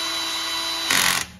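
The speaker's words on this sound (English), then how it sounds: "This is just a drill, so it's not going to take them up tight at all." A cordless power drill spins car wheel nuts onto the studs, a steady high motor whine that surges louder near the end as a nut runs down, with no voices.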